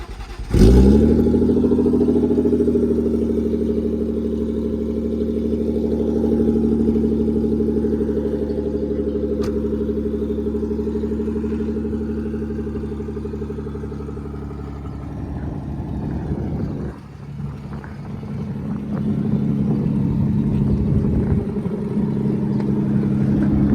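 A Toyota Mark II wagon's 1G-FE engine starts with a sharp burst, then settles into a steady, loud idle with rich low harmonics before revving up and down near the end.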